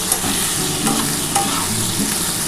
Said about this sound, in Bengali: আগে এটা একটু হালকা করে ভেজে নিই।